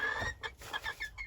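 A young Easter Egger cockerel gives a short series of clucks and soft squawking calls, close by, a few quick notes in a row.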